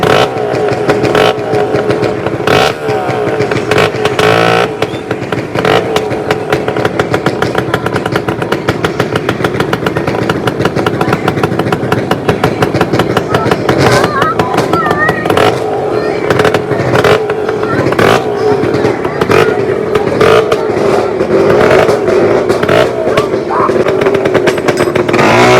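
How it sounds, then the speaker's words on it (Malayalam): Motorcycles riding onto a ferry boat, with loud, close engine revving and rattling clatter continuing throughout, and voices heard now and then. "രണ്ടാമത്തെ ബൈക്കും എത്തിയിട്ടുണ്ട്"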